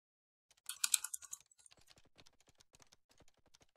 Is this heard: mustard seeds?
no